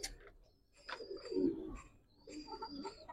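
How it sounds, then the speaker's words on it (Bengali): Giribaz and coloured pigeons for sale at a pigeon market, with soft, low cooing in a few short phrases, fairly faint and close, with light ambient noise. "কবুতরটা নর কবুতর ভাই"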